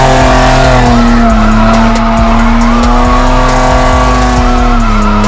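A car drifts with a loud, sustained tire squeal over a revving engine, the skid tone wavering as the steering is countered, close and continuous without talk.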